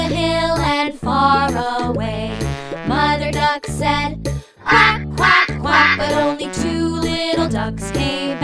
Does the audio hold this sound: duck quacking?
yes